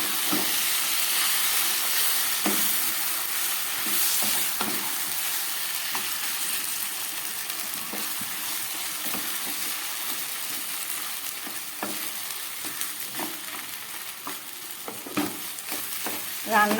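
Mutton with spices and a splash of spice water cooking in a pan over low gas, a continuous loud hiss and simmering sizzle broken by scattered stirring scrapes and knocks, close up without talk.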